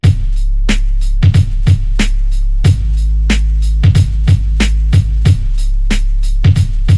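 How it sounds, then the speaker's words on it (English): Irregular crackling clicks and pops from a raindrop recording sit over a constant low hum, like surface noise on an old vinyl record, with no voices present. "it's just raindrops"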